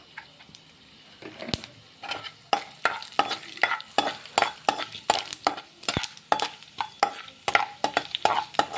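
Dried red chillies, tempering seeds and cumin fry in a pan, crackling and popping in quick, irregular bursts close by, with occasional metallic stirring clinks and no voices.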